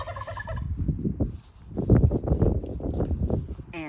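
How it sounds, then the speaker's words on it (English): A farm turkey gobbles in bursts, loud and close, the rapid warbling calls repeating over wind noise on the microphone, with no speech. "Oh, did you hear him gooble?"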